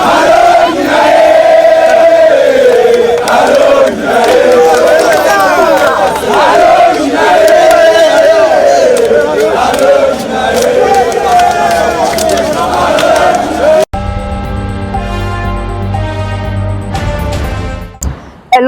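A crowd of Congolese people cheers and shouts for the president of the Democratic Republic of Congo during a walkabout, a loud, continuous roar of massed voices that cuts abruptly into a different, steadier section near the end.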